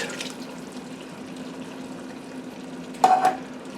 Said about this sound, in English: Then I got my HEB mild green tomato, diced tomatoes and green chilies. Going to add that.